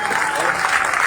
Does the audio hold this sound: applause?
yes